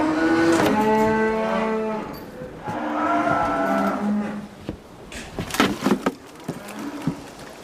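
Cattle penned aboard a sailing warship low loudly, with several long drawn-out moos one after another, followed by clattering knocks and shuffling from the animals close by.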